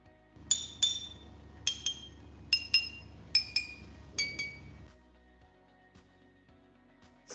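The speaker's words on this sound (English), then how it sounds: "When we tap the bottles, the glass and the water vibrate." Glass bottles holding water are tapped in quick pairs, giving bright ringing clinks whose pitch shifts from bottle to bottle before a quiet stretch.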